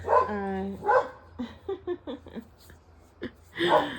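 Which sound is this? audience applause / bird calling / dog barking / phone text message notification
dog barking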